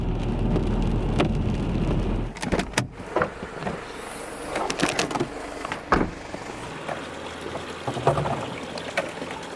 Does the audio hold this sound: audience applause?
no